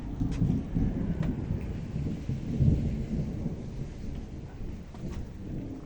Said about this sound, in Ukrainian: Е, Суго, чуєте, гримить?